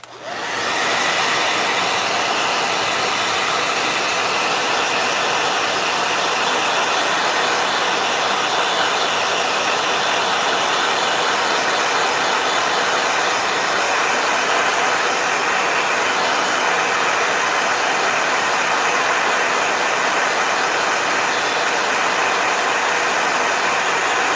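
A blow dryer runs continuously with a steady, loud whooshing roar, starting abruptly and holding an even hiss throughout.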